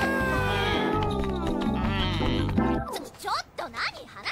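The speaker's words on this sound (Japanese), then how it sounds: "せっかく困ってる猫連れてきてあげたのに。" A cat meows in an anime scene, a drawn-out plaintive cry over background music, with voices talking around it toward the end.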